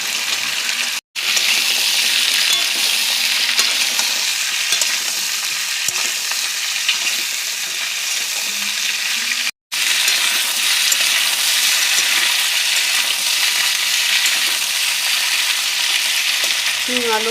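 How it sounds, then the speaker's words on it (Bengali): Flat beans and potatoes fry in hot oil with panch phoron and slit green chillies, a loud continuous sizzle with scraping stirring throughout and two sudden short cuts. "সিম দিয়ে জমিয়ে নাড়াচাড়া করে নিলাম। এবার দিয়ে দেবো আলু।"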